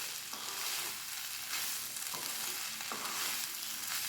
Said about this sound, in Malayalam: ഇടയ്ക്കൊന്ന് ഇളക്കണം